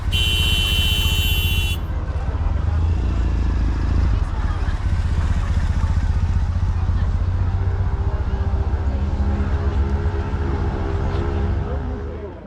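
A car horn blares continuously for nearly two seconds over a loud rumbling engine. The engine keeps running steadily afterward without further honks.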